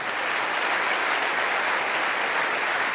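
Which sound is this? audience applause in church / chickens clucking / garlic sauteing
audience applause in church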